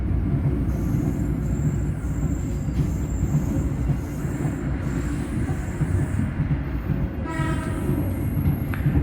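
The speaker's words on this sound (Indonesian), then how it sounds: "Oh, KRL berangkat." A KRL commuter electric train departs Lempuyangan station, rumbling steadily nearby with a low, heavy drone, rail noise building and a faint high squeal near the end.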